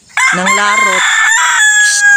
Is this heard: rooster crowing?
yes